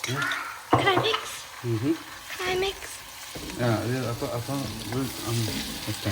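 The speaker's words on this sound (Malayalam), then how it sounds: "ഇതൊന്ന് ജസ്റ്റ് ഒന്ന് മീഡിയം ഫ്രൈ ആയി വരുമ്പോഴേക്കും" Ginger garlic paste frying with a small amount of chicken in a pan for a chicken roast, a steady sizzle with stirring scrapes running under continuous close talking throughout.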